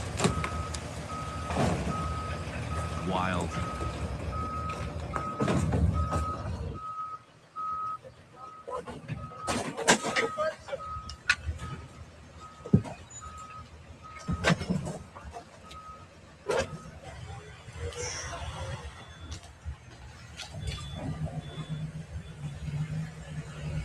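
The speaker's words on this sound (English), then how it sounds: "Got dump trucks now." Dump trucks reversing with repeated steady backup beeps, engines rumbling and clattering underneath, with someone talking briefly over the noise.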